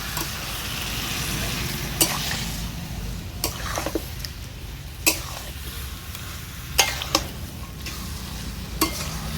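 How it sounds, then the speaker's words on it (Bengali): Marinated chicken sizzles in a pan while a spoon stirs it, steady frying hiss broken by sharp scrapes and clacks every second or two, close and without speech. "আগের থেকে ম্যারিনেট করে রাখা চিকেনটাকে দিয়ে দিচ্ছি ভালো করে মিশিয়ে নেব"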